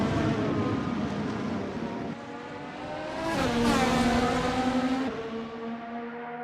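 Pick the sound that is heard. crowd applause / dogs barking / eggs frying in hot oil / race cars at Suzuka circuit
race cars at Suzuka circuit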